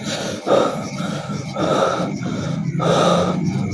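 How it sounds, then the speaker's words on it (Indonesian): A man pants heavily with close, ragged breaths, a sharp gasp followed by several rhythmic heaving inhales and exhales over a few seconds. "terdengar suara nafas laki-laki yang terengah-engah seperti habis berolahraga"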